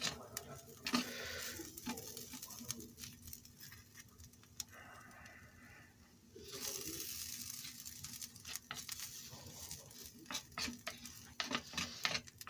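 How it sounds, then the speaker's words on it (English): Potatoes frying in a pan in a prison cell kitchen, a soft irregular crackle and sizzle with scattered ticks, quiet and close, with a brief stretch of louder hissing midway. "Potato's starting to fry up a little bit."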